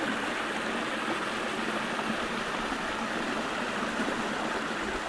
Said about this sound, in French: vous entendez sûrement le ruisseau couler, mais écoutez aussi la pluie